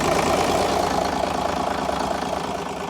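A boat's starboard engine idling, giving a loud, steady low rumble with rapid knocking pulses that fades slightly over a few seconds, close to the microphone and with no talk.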